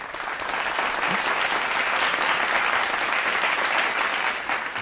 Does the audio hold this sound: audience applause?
yes